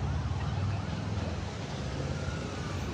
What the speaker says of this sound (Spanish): Allá se oye el ulular de una patrulla o de una ambulancia.